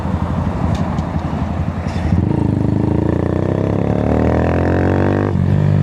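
A 2022 Honda Grom motorcycle putters along and then revs up as it is ridden, its small engine note climbing steadily and loudly close by, under heavy wind rumble.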